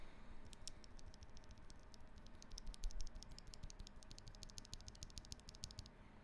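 Steady, quick typing on a mechanical keyboard with lubed switches: a dense run of soft clicks and clacks, heard alone at close range.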